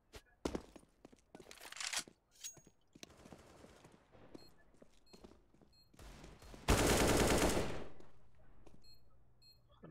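Gunfire in the tactical shooter CS:GO comes in scattered short bursts and single shots, fairly quiet, ending in one louder sustained burst that fades out.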